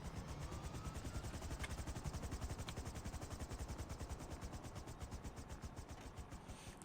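A police fleet helicopter heard from inside the cabin, its rotor thumping in a steady rapid beat over a loud continuous engine whine, close and unbroken throughout with no talk.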